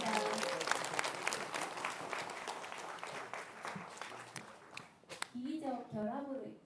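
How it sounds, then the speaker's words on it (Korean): An audience applauds a lecturer at a Gaecheonjeol festival lecture in Busan, a dense sustained clapping that fades out before a speaker's voice resumes over the last moments. "뜨거운 박수 한번 부탁드리겠습니다."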